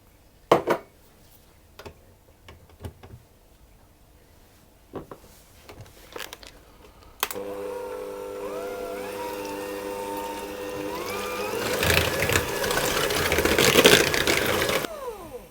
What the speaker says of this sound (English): I'm going to mix those until they're fully combined into the sugar and butter